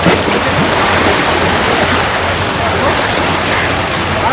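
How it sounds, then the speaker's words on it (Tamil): Sea waves wash steadily along the rocky Mumbai seashore at low tide, a loud continuous broadband surge with wind buffeting the microphone and no talk over it. "நாம் இப்போ மும்பை கடற்கரை ஓரமாக இருக்கோம்"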